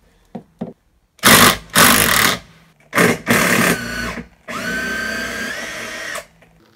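A Teccpo cordless screwdriver drives a screw into a wooden pallet, whirring in several loud bursts of rising effort until a final long strained run, with clicks between bursts.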